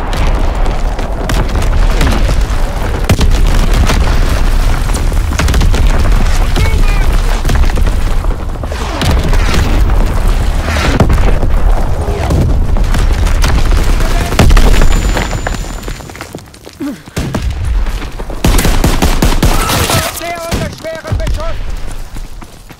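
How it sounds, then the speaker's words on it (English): Primary battery artillery firing in a Call of Duty WW2 battle, heavy booms and dense gunfire crashing repeatedly at close range, loud and chaotic, with a brief lull near the end. "Firing primary battery."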